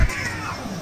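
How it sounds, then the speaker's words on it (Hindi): Cats fighting inside a large cage, with a short, loud yowl or growl at the very start followed by lower scuffling and rumbling cat noise, heard up close with no talking. "कीकी वहाँ पर जाकर ना बिल्ले के पास बिल्ले को डरा रही है और उसे ना मार रही है"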